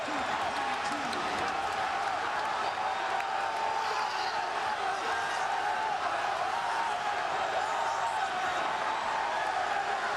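Basketball crowd at Comcast Center in College Park, Maryland celebrating after a win over Duke as fans storm the court, a dense, steady roar of cheering and shouting that fills the arena.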